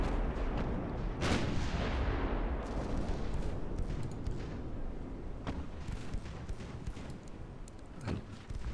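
Naval guns firing from the battleship Nassau in a warship game, heavy booming salvos with a sharp blast near the start and another late, over a steady rumbling background.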